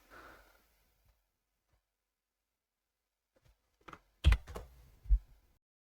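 A short burst of computer keyboard typing: after a quiet stretch, a handful of close, sharp key clicks come in quick succession.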